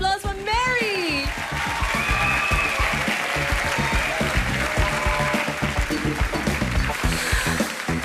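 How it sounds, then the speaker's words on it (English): A television studio audience at a results show gives warm, sustained applause, dense and steady, with a voice speaking over the opening moments. "Please give another warm round of applause for Mary."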